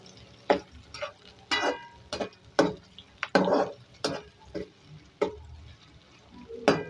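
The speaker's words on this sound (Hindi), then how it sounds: "ये हमारी प्याज फ्राई हो रही है" Three medium onions frying in oil in a kadai for beef aloo gosht, with repeated sharp scraping stirs over a steady soft sizzle, close and moderately loud, no voices.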